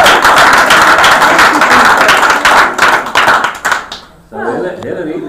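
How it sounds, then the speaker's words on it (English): A crowd breaks into a round of applause, dense overlapping clapping held loud for about four seconds before it thins out and gives way to quieter room sound. "Give them a round of applause."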